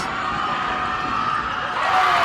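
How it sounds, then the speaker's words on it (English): Loud, steady crowd roar fills a high school girls' basketball gym during a free throw, with cheering swelling slightly toward the end. "The crowd making a lot of noise."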